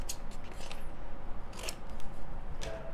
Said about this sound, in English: Just gonna cut it.